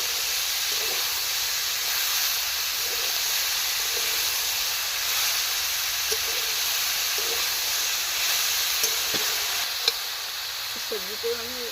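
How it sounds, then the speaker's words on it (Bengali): Vegetables for a chicken vegetable soup fry in a pan with a steady steamy hiss and occasional soft scrapes of stirring, close and even throughout, ending with a brief faint voice-like sound. "সব একে একে সবজিগুলো দিয়ে দিলাম, দিয়ে ভালো করে সবজিগুলোকে নেড়ে নেব"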